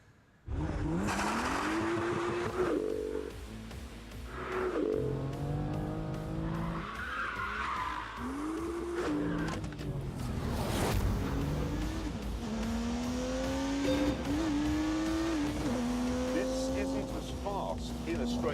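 A BMW M2 in The Grand Tour video game, engine revving up and down through gear changes with repeated tyre squeals and skids, loud and continuous, with someone talking over it.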